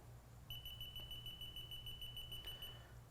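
A Bevins/CHANCE proximity voltage indicator gives a steady high-pitched electronic beep pulsing rapidly for about two seconds during its startup self-test, then stops; quiet background.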